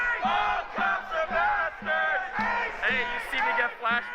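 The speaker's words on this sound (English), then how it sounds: "clearly you can hear how the crowd feels about it" A protest crowd shouts in rhythmic, repeated bursts after an unlawful assembly declaration, loud and close, each chant rising and breaking off in a steady cadence.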